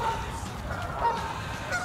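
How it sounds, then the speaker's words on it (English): Goose honking close by over a steady background rush of wind and city traffic, heard on a morning bike ride through central Birmingham; a few short honks stand out, with no talking. "Hello, Goose."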